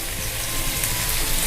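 Onions and capsicum fry in butter for a pav bhaji, giving a soft, steady sizzle throughout, low in level with no talk.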